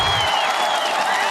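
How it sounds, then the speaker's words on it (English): A short burst of applause from participants closing a vaccine-preventable disease surveillance course: dense, even clapping that fills the moment and sounds fairly close. "I think we owe each other a round of applause"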